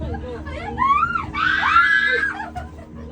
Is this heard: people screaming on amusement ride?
yes